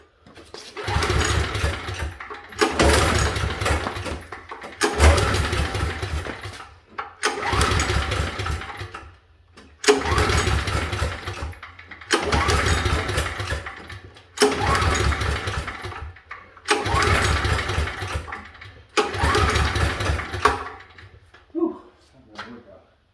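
A generator engine cranks but fails to start: about eight loud, rhythmic starter bursts of roughly two seconds each, separated by short silences, ending in a few weak sputters.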